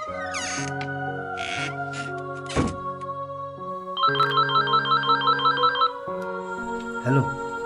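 A telephone rings in a short drama film, its electronic ringtone pulsing about a dozen times in quick, even beats over a sustained background music score, with brief sharp knocks before and after.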